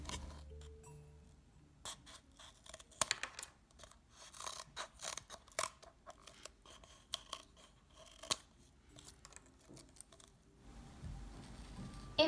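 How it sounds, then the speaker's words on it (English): Scissors snip around the rim of a paper cup in a classroom robot craft, a run of sharp irregular clicks and cuts, close and fairly quiet, with no talking. "If the battery is deep inside of the cup, trim the rim of your cup."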